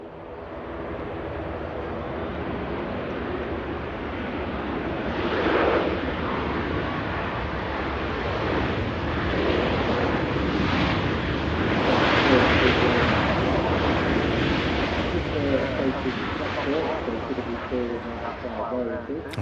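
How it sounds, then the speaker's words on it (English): Ryanair Boeing 737-800 landing at Manchester Airport, a broad sustained roar of engines and rushing air heard from a distance, swelling and lingering for many seconds while a voice talks over it. "Ryanair flight 1144. It's a 737-800 series. Buttering the runway there"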